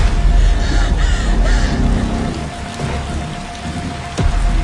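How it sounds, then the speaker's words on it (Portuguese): Steady rain falling in a tense outdoor scene, a dense, even hiss that fills the clip, with a low rumble underneath and a brief sharp knock near the end. "A gente não sabe se a chuva é perigosa, Martin"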